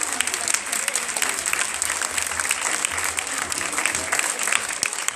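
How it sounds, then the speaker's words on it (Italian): An audience applauds steadily throughout, a dense, continuous clapping from a crowd gathered for a children's singing performance, fairly close and sustained without pause. "un applauso."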